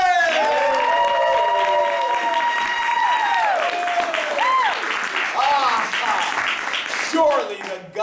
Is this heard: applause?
yes